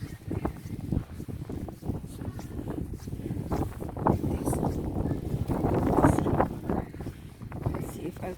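Strong blizzard wind gusts buffet the microphone outdoors in a Winnipeg snowstorm, a loud, continuous rumbling roar that swells and surges, with a person talking throughout.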